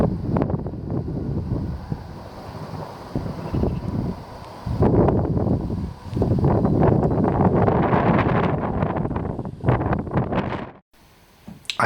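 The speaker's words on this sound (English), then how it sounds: "It's certainly turned really breezy today." Cold, gusty wind buffets an outdoor microphone in a front garden, a steady blustery roar that swells and drops in bursts with brief lulls and a near-silent gap toward the end.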